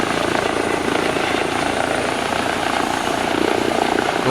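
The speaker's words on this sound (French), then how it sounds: "l'hélico vire à droite là quand on est au ralenti comme ça." An EC135 helicopter in the X-Plane 11 flight simulator, approaching and landing at La Rochelle, sounds as a loud, continuous rotor and turbine roar with a steady fast chop, heard alone and unchanging throughout.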